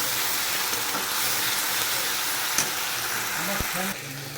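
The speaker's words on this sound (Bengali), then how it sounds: "এর মধ্যে একটু সামান্য জল দিয়ে দিলাম মশলাটা দিয়ে মানে মশলাটা আর একটু কষাবো জলটা দিয়ে" Spice paste fries in a pan with a little water added, a loud continuous sizzle and hiss with occasional stirring scrapes, running steadily throughout.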